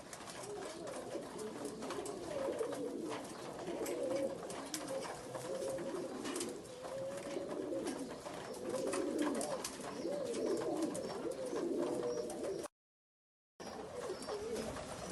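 Working pigeons coo continuously in a loft in low, throaty rolling calls, several birds overlapping close by, with a brief silent gap near the end.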